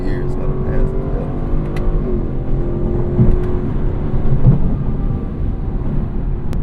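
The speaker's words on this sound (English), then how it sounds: "Drop a few gears, gotta pass it up." A Lexus LC 500 convertible drops gears and accelerates to pass, a loud, steady low engine roar with rising tones heard from inside the cabin, under a speaking voice.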